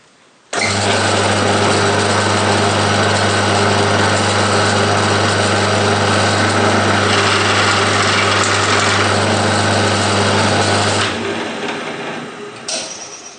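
Power drill boring a hole in a metal part for a model steam locomotive, a loud steady whine running continuously for about ten seconds before winding down.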